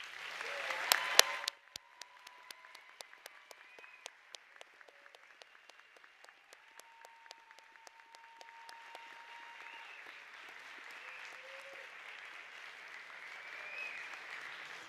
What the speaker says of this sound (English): Everyone, please join me once again in applauding our graduates.